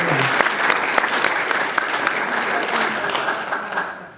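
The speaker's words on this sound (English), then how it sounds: "A round of applause for the Churches of Christ." An audience applauds the Churches of Christ at a live event, a dense, steady round of clapping that holds for several seconds and then tapers off at the end.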